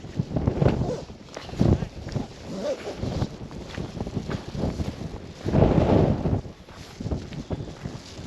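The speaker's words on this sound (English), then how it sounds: "The wind's really started to pick up now." Gusty wind buffets the microphone on a mountain path between Beinn Dubhchraig and Ben Oss, coming in strong rumbling bursts that rise and fall, with footsteps underneath.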